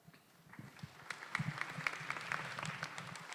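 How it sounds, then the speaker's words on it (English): Audience at a debate evening applauding the competitors, sparse quiet claps that build into a fuller round of clapping, heard at some distance and fairly faint. "Let's give them a big round of applause again."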